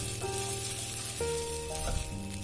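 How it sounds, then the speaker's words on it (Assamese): Oil sizzles and crackles steadily on a hot tawa as a paratha fries, a close, continuous frying hiss, with faint tonal hum from the kitchen in the background. "এয়া মই এবাৰ টাৱাখনত তেল অলপমান দি পেলাই ইয়াতে এতিয়া পৰঠাখিনি বনাই লওঁ।"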